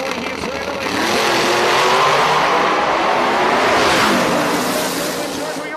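Drag radial race cars launching side by side at a drag strip, a loud roaring engine wash that swells and holds, then fades slightly as they pull away, with a crowd or announcer voice blending into the roar.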